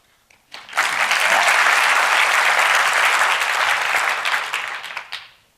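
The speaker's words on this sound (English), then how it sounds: "I want you to clap your hands." TEDx audience clapping in agreement, a dense burst of applause from many hands that rises quickly, holds steady and loud for several seconds, then tapers off.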